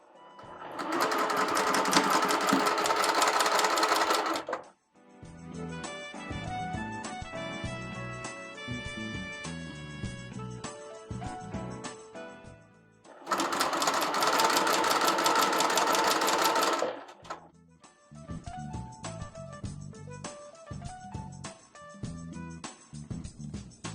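A sewing machine stitches a clean-finish seam on a garment in two long, steady bursts of about four seconds each, separated by quieter stretches of background music.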